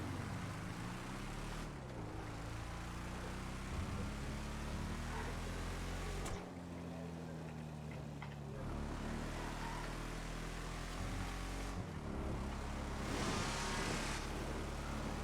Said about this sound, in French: pour faire un bruit comme ça, je pense qu'à mon avis, il n'y a pas de pot d'échappement du tout